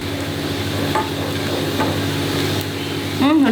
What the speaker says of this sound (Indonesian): Tumis sampai harum. Tunggu sampai warnanya kecoklatan